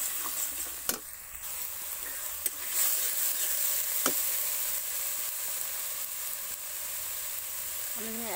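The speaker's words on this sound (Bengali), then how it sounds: "হলুদ, লবণ, ভালো করে মশলাটা আমি কষাতে থাকবো।" Spice masala with turmeric and salt being fried, a soft steady sizzle broken by a few sharp scrapes of a spoon against the pan, fairly quiet and without speech.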